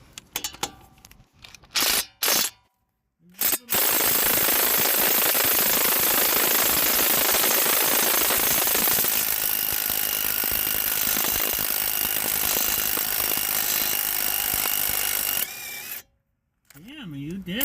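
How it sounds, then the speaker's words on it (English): An impact driver with a 7/8 socket hammers out rusted brake caliper bolts on a 2014 Cadillac ATS, first in short choppy bursts, then a loud continuous rattling run of over ten seconds, close up, ending with a few brief pulses. "I used the 7/8 bit here in my impact driver, and it came out pretty easily, but it was rusted in there pretty good"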